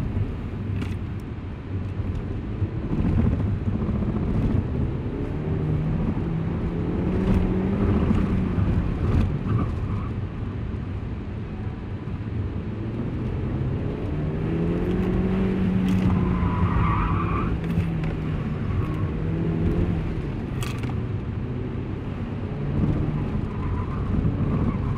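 A car on an autocross course, heard from inside the cabin, drives a full lap: the engine drones and rises through gears while the tires squeal and skid repeatedly through the turns.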